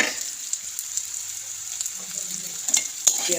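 Onion tossed into potatoes frying in a pan with salt gives a steady, close sizzle, with a couple of sharp stirring clatters near the end and no talking.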